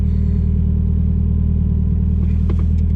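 A drift car's engine rumbles loudly and steadily at close range, with a deep continuous drone and a few brief rattling bursts near the end.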